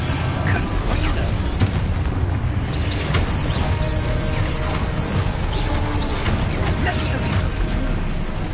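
Fiery spell blasts boom through a wizard-themed video game as the Confringo curse explodes, dense and continuous with repeated muffled impacts and crackling debris, while a person speaks over the action.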